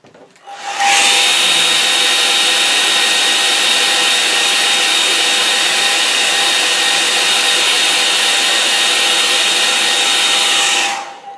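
Hair dryer blowing a steady, loud whoosh over a wet watercolour lake painting, switched on abruptly, running evenly for about ten seconds, then cut off, with no talking.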